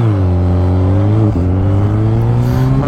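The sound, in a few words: BMW K1300S motorcycle accelerating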